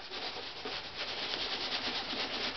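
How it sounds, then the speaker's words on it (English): Flitz polish rubbed by hand into violin varnish makes a continuous soft, close scrubbing swish, slightly pulsing with each stroke, with no voices. "So keep rubbing it in until it's completely gone."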